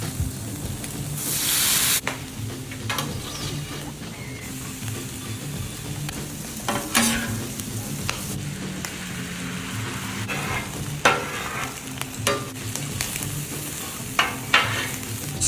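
Apple slices fry in bacon grease and get stirred in a pan, a constant loud sizzle broken by scraping stir strokes and utensil clicks, close and without speech.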